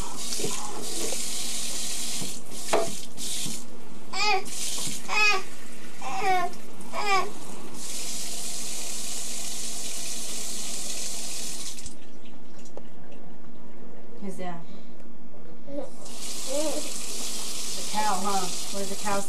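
A kitchen or bathroom tap runs steadily in a home as a broad, continuous hiss of flowing water, with a child and an adult talking and babbling over it; the flow briefly cuts out partway, then resumes.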